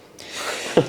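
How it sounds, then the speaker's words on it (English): A sneeze in a football phone-in studio: a breathy, rising intake builds for most of the moment, then a sharp, loud burst near the end, close to the microphone with no talk. "Yeah, I'm going to sneeze."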